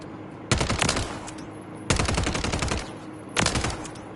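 Three sharp bursts of rapid SMG automatic fire in Modern Warfare 3, each lasting about a second with quiet gaps between, loud and close with no voices.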